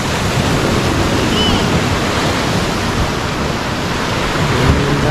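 Sea surf at a beach rushes as a steady, loud broadband wash, with constant roaring noise and possible wind buffeting on the microphone throughout.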